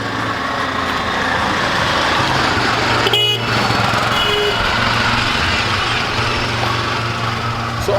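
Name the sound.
auto rickshaw traffic honking on a small village road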